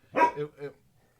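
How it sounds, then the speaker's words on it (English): A dog barks indoors: a single loud, close bark followed by a couple of quicker, softer yips, all within about a second and with no talking. "that was Misha, our dog"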